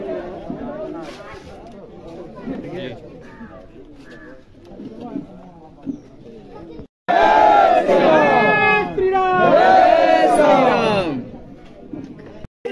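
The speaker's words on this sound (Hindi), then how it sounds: "घर पे भीड़ ज़्यादा है" A crowd gathered at a BJP candidate's home in Kapilvastu, Siddharthnagar district, starts loud, dense cheering and chanting midway, after quieter murmuring voices and talk.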